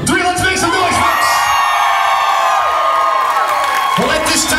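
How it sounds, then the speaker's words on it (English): Wedding guests at a lakeview pavilion scream, whoop and cheer together in a loud, sustained crowd roar, with a voice heard over the noise. "On three, scream out the top of your lungs."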